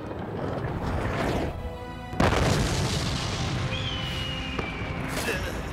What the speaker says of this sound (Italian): Primo cannone!